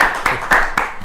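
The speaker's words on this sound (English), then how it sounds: "Let's give New Jersey a big round of applause." Brief burst of audience applause, a few sharp claps in quick rhythm over about a second, close and fairly loud.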